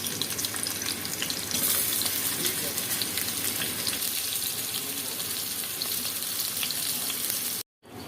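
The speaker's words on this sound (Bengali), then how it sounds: "অল্প করে একটু তেল দিয়ে আলুটা ভেজে নেব।" Potatoes fry in a little oil with a constant, bright hiss close by, small crackles scattered through it, before a sudden brief cutoff at the end.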